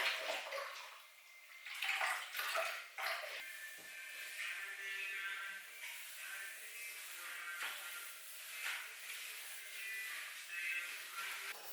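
Water runs steadily from an outdoor tap beside a cabin in the Swedish woods, used for washing hair and laundry. The rushing splash fluctuates, with a few louder gushes, and no one talks.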